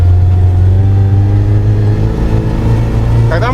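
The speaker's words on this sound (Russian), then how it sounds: "Так, мы разгоняемся." A UAZ racing off-road vehicle accelerates slowly with a loud, steady in-cab engine drone, pitch gradually rising, and a voice briefly heard near the end.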